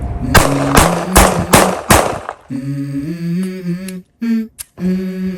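Rapid pistol fire from a SIG P938, about four close, loud shots in quick succession, followed by ringing tones and a few sharper clacks.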